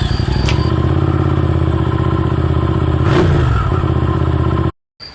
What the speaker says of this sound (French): Je démarre mon véhicule.